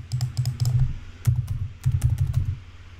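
Quick keystrokes on a computer keyboard sound in three short bursts of close, crisp clicking with brief pauses between, as a word is typed into a slide program.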